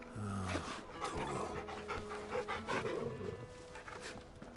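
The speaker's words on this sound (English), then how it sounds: "You get to pet your dog." A dog pants steadily in Final Fantasy XVI while being petted, quick rhythmic breaths close up over a busy game soundscape.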